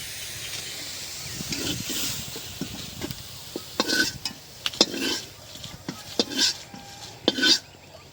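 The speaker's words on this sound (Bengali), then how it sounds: "এদিকে ভাজা হয়ে গেছে আমার মিষ্টি কুমড়া শাক, উঠাইনি।" Pumpkin greens fry in a pan in a pond-side kitchen, giving a soft sizzle. Repeated utensil scrapes and metallic clinks from stirring grow busier and louder toward the end.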